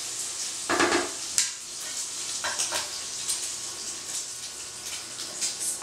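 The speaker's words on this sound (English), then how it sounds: "So my bacon's almost getting crispy." Bacon crisping in a pan makes a continuous, fairly quiet sizzle and crackle, with a few soft utensil clinks and scrapes over the hiss.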